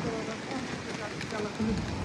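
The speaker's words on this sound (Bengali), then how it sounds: "আল্লাহ, বাইরে তো ঝুম বৃষ্টি হয়।" Heavy rain pours down outside during a storm, a dense, steady hiss filling the whole clip, fairly close, with indistinct voices mixed faintly underneath.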